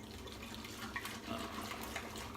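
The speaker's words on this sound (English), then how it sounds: "rinse the brush, rinse the bowl while the alum sits" Water runs steadily from a tap while a shaving brush and bowl are rinsed, a faint, even splashing with slight gurgles and no voices.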